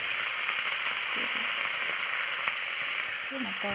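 Peas and potatoes frying in a pan, a steady close hiss and sizzle with light crackling, continuous throughout, with a faint voice briefly audible.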